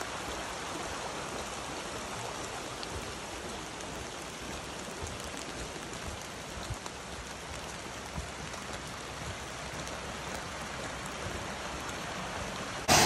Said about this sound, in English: Rain's coming down. The streams are rising.